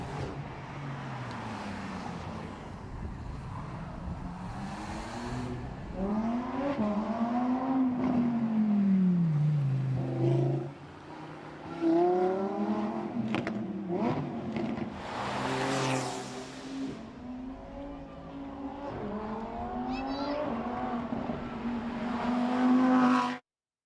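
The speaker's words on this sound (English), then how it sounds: "I'll let you guys listen to this Porsche head up the hill." A Porsche rally car climbs a hill on the Strathalbyn town stage, its engine revving loud and close with rising and falling pitch through gear changes, lifting briefly mid-run before pulling hard again.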